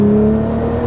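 Nissan GT-R with a twin-turbo V6 pulling hard under acceleration, a loud, close, steady engine drone with a strong tonal whine for under a second, no voices.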